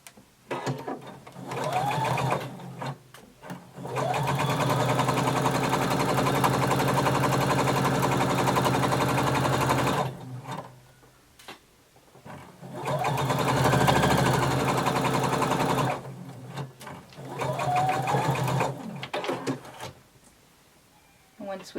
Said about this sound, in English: going to sew the other side the same way.